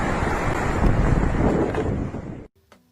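Floodwater rushes over and past a low, flat bridge during a flood, making a loud, steady broadband roar close by for about two and a half seconds before it cuts off abruptly into near silence.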